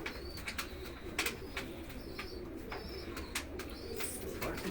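Pigeons coo softly in repeated low throaty bursts at a rooftop loft, the calls fairly close and overlapping against a steady outdoor background.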